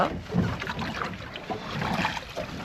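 A shikara boat glides on Dudhani lake, with soft, faint water lapping and paddle splashes under light wind noise.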